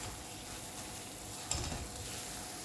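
A thick milk-based peda sweet mixture is stirred in a hot pan, giving a steady soft sizzle with scraping spoon strokes and one brief clink midway, moderately quiet and without talk.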